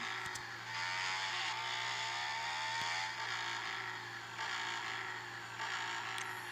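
A motorcycle engine runs with a steady, rising hum, heard from the rider's position as the bike moves along, fairly faint overall with no talking.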